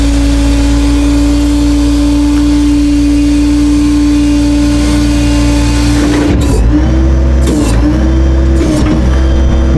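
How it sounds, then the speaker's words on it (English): Tow truck rollback bed hydraulics running, a steady loud motor drone and whine holding level, then a few shifts and clunks as the bed moves out toward the ground. "We're gonna roll this bed out and put it on the ground and see how close we get to the front tires."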